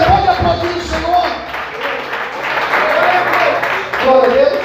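Sustained applause from a church congregation fills the space, dense clapping running throughout beneath a preacher's loud amplified exclamations.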